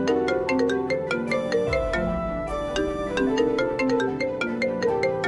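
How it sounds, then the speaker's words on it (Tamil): A phone rings loudly and close with a bright, repeating melodic ringtone that plays continuously in quick, plucked notes, with no talking over it. "என்ன நம்ம ஃபோன் சத்தம் கேட்குது?"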